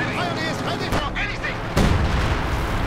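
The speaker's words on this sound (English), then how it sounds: "More artillery going down in the hopes of killing something." Artillery fire from the World War II strategy game Company of Heroes 2: booming shell blasts with crackling gunfire, a big impact near the middle, then a dense, continuous rumble of barrage through the rest, no talk.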